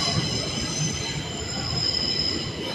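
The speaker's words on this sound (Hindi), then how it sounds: "ट्रेन भी आ गई एक।" A metro train pulls into Piata Unirii station in Bucharest, Romania, with steady high-pitched wheel squeal over a low rumbling rail noise, moderately loud and continuous, with no talking.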